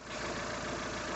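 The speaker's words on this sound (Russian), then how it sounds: "Собрали мотор, завели. Работает стабильно." A Daewoo Lanos engine idles after a repair, freshly reassembled and started in a Kyiv workshop, with a steady, even running rumble close by and no voices.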